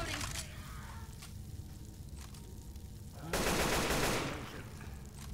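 Gunfire in Left 4 Dead 2, a steady crackle of shots under the game's background noise, then a louder dense burst of rapid fire for about a second before it eases off.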